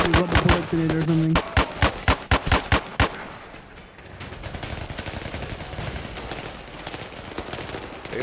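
Rapid AR-15 rifle gunfire from the Zero Caliber VR shooter, a burst of sharp close shots in the first three seconds followed by scattered distant firing and rumble, with a voice speaking over the opening shots.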